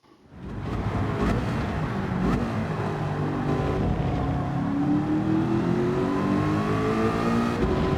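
A race car in a racing game revs up from near silence into a loud, sustained full-throttle engine howl, the pitch climbing steadily as it accelerates through a gear, with no talking.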